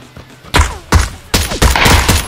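Gunshots in the PUBG battle royale video game ring out as a handful of loud, booming shots at uneven intervals, with echoing tails and a brief ringing tone near the end. No talk is heard.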